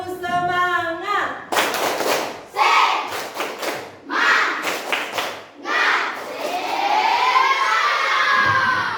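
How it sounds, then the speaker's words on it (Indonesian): Schoolchildren in a classroom perform a rhythmic spirit clap chant, with loud shouted chanting voices broken by bursts of patterned group clapping and thumps, ending in a sustained cheer. "Tepuk semangat."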